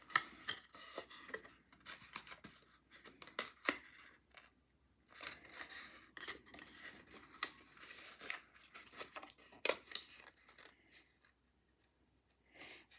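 Card stock being folded and creased into a small triangle-bottomed treat box, giving a string of crisp paper rubs, scrapes and snaps, close and fairly quiet, with short pauses between the folds and no talking.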